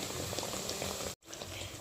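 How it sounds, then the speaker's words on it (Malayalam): Milk and water come to a boil for masala tea, a dense, continuous bubbling and gurgling close by, briefly cut by a split-second gap. "അതിനുവേണ്ടി നമ്മൾ പാലും വെള്ളവും ഒന്ന് തിളച്ച് കിട്ടട്ടെ"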